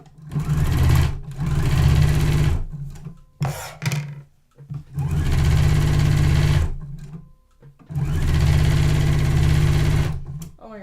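Embroidery machine stitching a quilted holiday table runner, whirring loudly in three long runs separated by brief stops and small clicks, close up and heard alone.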